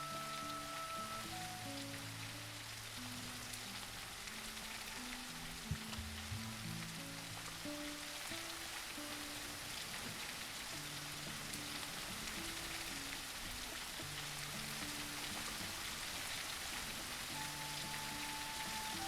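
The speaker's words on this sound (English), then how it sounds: "Here we are, flying along in the rain." Steady rain hisses and patters throughout a scene in the video game Teddy's Haven, faint and even with no breaks, under a quiet background tone.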